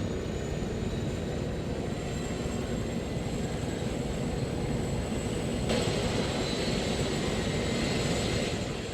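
Helicopters spooling up in Arma 3, a constant droning engine whine with a broad rumbling turbine roar, steady and unbroken, rising slightly in intensity partway through.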